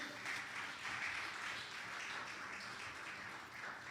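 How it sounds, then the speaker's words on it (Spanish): A congregation at a Spanish-language Wednesday church service claps for the Lord, soft and distant, an even patter of many hands sustained throughout. "Dele ese aplauso al Señor."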